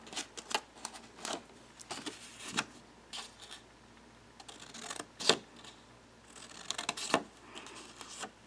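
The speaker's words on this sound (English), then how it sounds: "So just cut a little slit." Scissors cut a small slit in fabric while making a stackable suitcase, giving quiet, scattered snips and crisp clicks spread irregularly through an otherwise hushed room.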